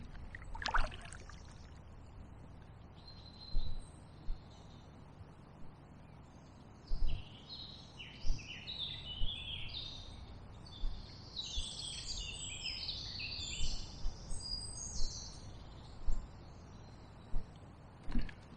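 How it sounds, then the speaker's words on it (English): Birdsong along the Basingstoke Canal: bright chirps and warbling phrases that grow busier halfway through, set against quiet open-air background, with occasional soft splashes and knocks from a kayak paddle. "Nothing but the sound of bird song"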